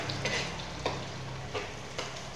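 Garlic and onion sauté in a pan for chicken adobo, giving a close, steady sizzle broken by a few sharp stirring scrapes roughly every second, with no talking.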